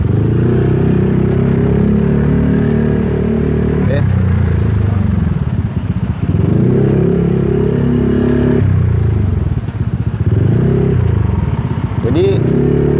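A modified Honda Stylo 160 scooter fitted with an aftermarket exhaust runs close by, its loud engine droning and swelling in repeated revs, while someone talks over it throughout.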